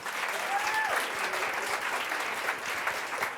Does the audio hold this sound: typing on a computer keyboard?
no